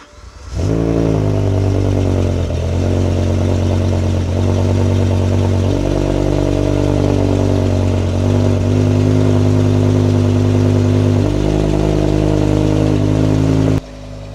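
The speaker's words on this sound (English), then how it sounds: "that is an M5 cold start" A BMW M5 fires up from cold, the engine catching and then holding a loud, steady high idle with a rich harmonic drone for about thirteen seconds, close to the car and with no voices.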